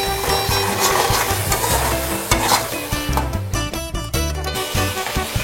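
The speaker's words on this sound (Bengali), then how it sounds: "আমি ভাজবো।" Eggplant bharta base frying and being stirred in a pan, seasoned with black salt: a steady close sizzle runs throughout, broken by scraping spatula strokes and clinks, with no talking.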